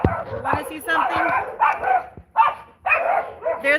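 A small dog barks and yips in short, excited bursts close by, reacting to people and a dog walking past outside. The barks are mixed with a person talking.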